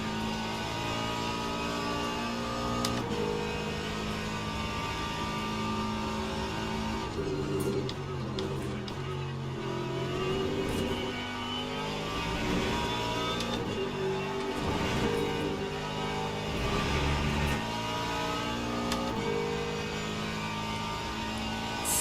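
Ford Mustang GT3 race car engine at Monza in Le Mans Ultimate, a steady loud droning roar with shifting revs and gear changes throughout, close and continuous with no talk.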